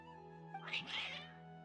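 Cats meow a couple of times in the video game Genshin Impact, drawn-out and plaintive, against a steady low background hum.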